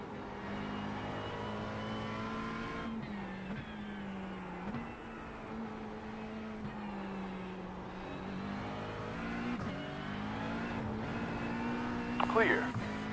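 A multi-class racing video game at Mid-Ohio, with an LMP2 prototype race car closing in: a steady, loud engine drone with harmonic pitch that climbs and dips as the car nears, heard under ongoing talk.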